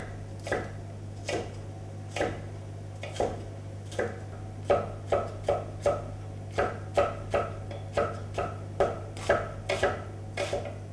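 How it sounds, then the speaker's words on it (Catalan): Knife chopping vegetables into small cubes on a cutting board, onion, peppers, courgette and asparagus for an eggplant mille-feuille, with about twenty sharp rhythmic thuds that grow steadier, over a steady low hum. "Ara les tallarem totes a quadrets."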